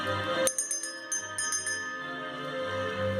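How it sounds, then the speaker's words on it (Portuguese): Bright ding-dong chimes of a notification bell, a cluster of quick metallic strikes near the start followed by ringing tones over a low hum, with no voices. "e ativar sininho. O ding dong isso."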